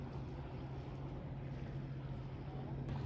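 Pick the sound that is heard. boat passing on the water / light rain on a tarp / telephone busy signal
boat passing on the water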